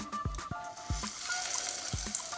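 Hara bhara kebabs made of spinach go into hot shallow oil over medium heat, giving a bright continuous sizzle with a few close clanks and thuds from the pan or utensils.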